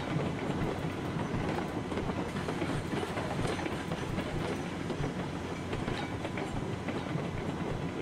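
A loaded freight train in RailRoads Online rumbles steadily throughout, with a dense continuous roll of wheels and faint clickety-clack, heard alone.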